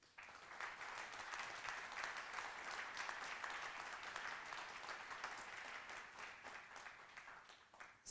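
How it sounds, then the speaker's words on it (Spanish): Steady applause from a large audience at a welcome address, faint and distant, sustained with dense clapping throughout and no talk over it. "les pido yo desde acá un fuerte aplauso"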